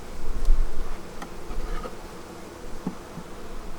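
Honeybees buzzing at a beehive in cool weather: a continuous near, dense insect drone with a few individual bees flitting close past the microphone.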